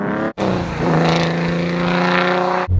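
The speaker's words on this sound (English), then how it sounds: "This Tuscan is so raw. It feels so special. It's got a 4 litre straight 6 engine" A TVR Tuscan with a 4-litre straight-six engine roars loudly and close, its pitch climbing under acceleration after a brief gap, then cutting off sharply at the end.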